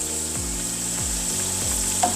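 Onions frying in a pan for German Frikadellen, a steady close sizzle with three rhythmic scraping strokes of a utensil stirring them, no talking.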